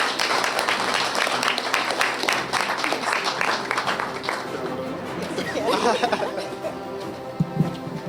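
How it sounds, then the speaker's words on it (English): Applause from an audience at an official media launch event swells as a dense, steady wash of clapping, mixed with crowd chatter and voices, then thins toward the end. "Give her a nice round of applause, guys."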